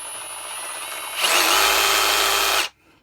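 Ryobi R18RS7 cordless reciprocating saw running free at higher speed: a steady motor whine that jumps louder partway through as the trigger is pressed further, holds, then cuts off abruptly, close and with no talk.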